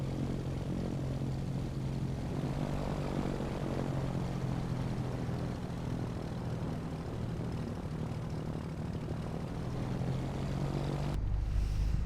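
A Piper PA-28 propeller engine in Microsoft Flight Simulator drones steadily at a constant pitch, loud and close, with a low hum and broadband noise that carry on without a break before a sudden change near the end.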